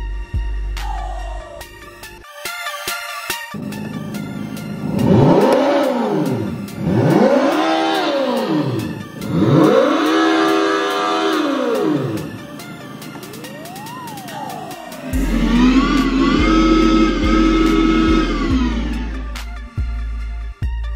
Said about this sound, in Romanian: Hai să-i auzim motorul, sună foarte fain.